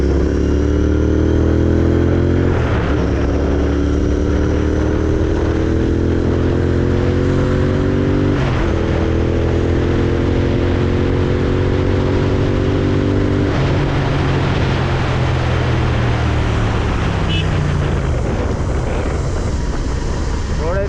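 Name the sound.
GT650 motorcycle riding at speed at night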